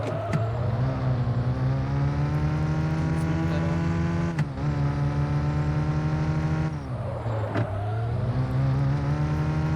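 Demolition derby video game car engine drones in a steady, buzzing hum with revs rising and dropping, broken by a few sharp crash impacts, loud and continuous with no talk.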